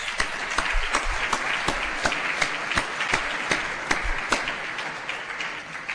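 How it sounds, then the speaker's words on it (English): Audience applause at a law and religion lecture, a dense steady patter of many hands clapping throughout, close and fairly loud with no talk over it. "join me in applause for them"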